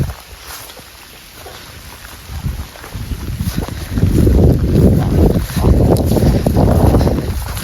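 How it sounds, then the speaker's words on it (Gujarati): Heavy rain pours outdoors in a rural yard, a loud, steady broadband roar that swells noticeably halfway through and stays dense and close, with no voices. "જો વરસાદ તો કેવો પડી રહ્યો છે"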